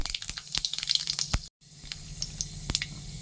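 Panch phoron spices crackling in hot oil for aloo chorchori, a busy stream of sharp pops and spits with a brief cut midway, close and loud, no voices over it.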